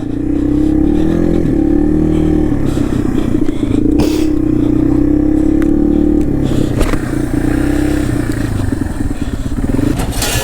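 A Yamaha TW200 dual sport motorcycle rides through snow, its single-cylinder engine droning loudly and close with shifting revs, with scraping and clattering over the top.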